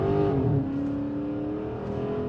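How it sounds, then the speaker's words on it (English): A deep V8 engine of a 2023 Chrysler 300C revs loudly and steadily in town, its rumbling note holding close and strong with a slight rise and fall throughout, no voices. "And that's natural sounding V8. Nothing fake about that through the radio."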